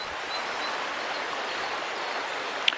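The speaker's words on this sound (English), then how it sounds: "Hopefully you can hear me talking over the sound of the river." A river flows through thick woodland, a constant broadband rushing of running water, close and even, with no voices and a tiny click near the end.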